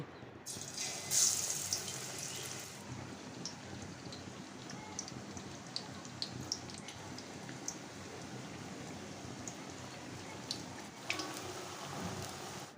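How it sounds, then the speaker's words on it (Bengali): Aubergine, pumpkin and potato pakoras fry in hot oil with a continuous soft sizzle and scattered pops, briefly louder with a hissy burst near the start and again near the end. "এখন পর্যায়ক্রমে বেগুন, মিষ্টি কুমড়া আর আলুর পাকোড়াটা ভেজে নিচ্ছি।"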